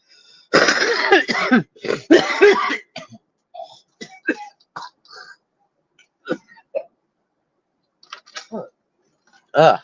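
A person coughs and clears their throat in a burst of harsh, close bursts over about two seconds, followed by softer scattered throat noises and small clicks in an otherwise quiet room.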